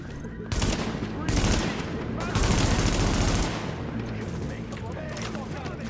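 Loud, dense automatic gunfire from the video game Tom Clancy's The Division, with rapid overlapping shots and booming bursts that roll on continuously for several seconds.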